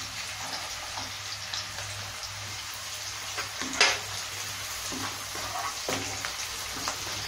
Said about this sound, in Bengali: রসুনটাকে আমরা হালকা ফ্রাই করে নেব